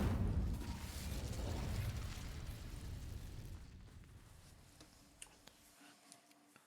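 An Incendio fire spell from a Harry Potter video game igniting dry vines: a loud roaring burst of flame that slowly dies down, followed by a few faint crackles and pops.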